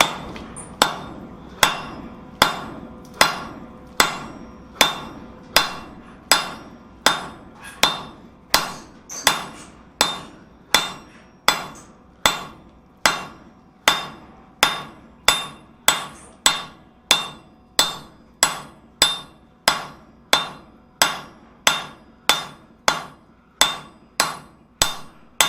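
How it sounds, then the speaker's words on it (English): Heavy sledgehammer blows ring out on steel while an anvil radius block is forged, about thirty sharp, evenly spaced strikes in a steady rhythm, close and loud with no talk. "Now we'll use the sledge."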